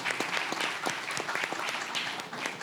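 An audience at an academic faculty seminar breaks into sustained applause, a dense, even wash of many hands clapping with no voices.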